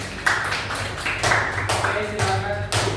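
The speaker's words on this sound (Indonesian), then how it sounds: "tepuk tangan nak untuk mereka berdua" Students in a classroom applaud with a few short bursts of scattered, close clapping, with voices mixed in among the claps.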